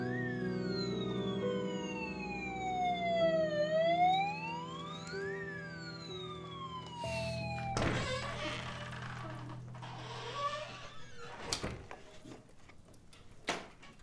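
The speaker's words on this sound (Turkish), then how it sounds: "Arabaya, itfaiyeye yol vermek lazım onu." A fire engine siren wails in rising and falling sweeps, loud at first then cut off as it passes, followed by voices talking and scattered thumps.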